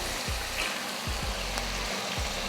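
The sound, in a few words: chicken frying and sautéing in masala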